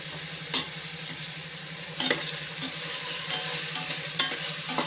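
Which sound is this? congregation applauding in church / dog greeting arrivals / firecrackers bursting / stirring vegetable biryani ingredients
stirring vegetable biryani ingredients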